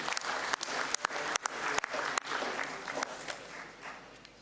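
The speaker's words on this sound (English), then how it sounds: "can we clap hands once more for Kamanga and the Finance Committee" Sustained applause from an audience at an association general assembly, steady dense clapping with a few sharper individual claps standing out, filling the hall without talk.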